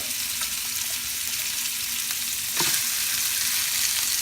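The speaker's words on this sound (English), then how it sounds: "fry this. Okay, make each side brownish, golden brown" A fish steak fries in a pan with a loud, steady sizzle and crackle throughout, swelling into a brief sharper spatter near the end, with no voices.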